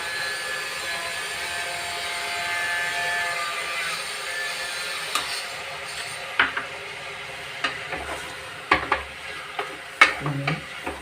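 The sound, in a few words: onions frying in a pan with salt and turmeric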